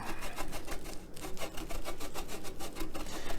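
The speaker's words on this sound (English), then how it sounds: "this is some Romano cheese, which I find is a little bit more pungent than Parmesan. And I'm gonna just grate a little bit of it across the top." Romano cheese grated by hand over a zucchini bake, a fast, even rasping stroke repeated rhythmically and close up, loud and continuous with no voices.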